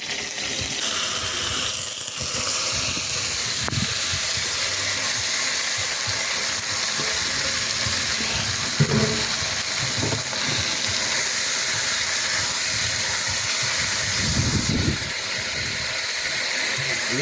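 Plantain slices fry in a pan, with a loud, steady hissing sizzle running throughout, close by, and a few faint knocks and brief background voices.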